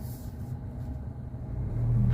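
A car in a driving lesson near Pattaya rumbles low and steady, with the engine swelling louder toward the end as it accelerates.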